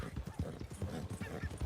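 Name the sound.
donkey hooves clip-clop in video game Red Dead Redemption 2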